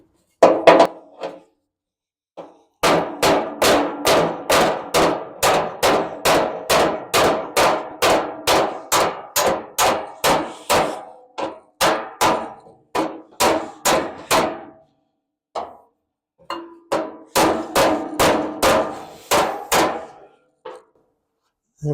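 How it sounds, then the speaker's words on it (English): Rapid, evenly spaced ringing blows of a hammer on sheet metal backed by a dolly, straightening rusty bodywork on a 1945 International K truck, in long bursts with short pauses, loud and close. "Got a dolly and hammer."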